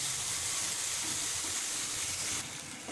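Ginger paste and ground coriander sizzling steadily in a pan as the spice mix is fried down, a close, continuous hiss with a slight drop near the end; no one speaks.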